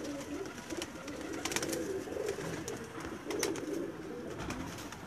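A pigeon coos in soft, repeated low phrases close by, with brief sharper background noises scattered throughout.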